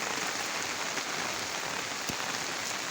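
Steady drizzling rain patters evenly and continuously across surfaces outdoors, close and unbroken, with one brief sharp tap partway through.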